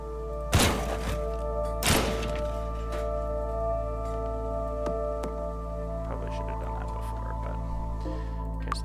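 A paper potato gun fires in the video game Teardown, giving two sharp, loud thumps a little over a second apart over a steady low hum.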